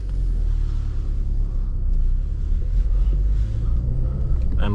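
Inside a 2010 Peugeot RCZ 1.6 THP 156 hp on the move, a deep, steady low-pitched engine and road rumble fills the cabin continuously at fairly high volume.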